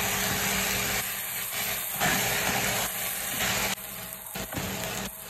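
Dried fish curry with chili powder and chopped tomato is stirred in a pan, with a steady close sizzling hiss broken by intermittent scraping stirs.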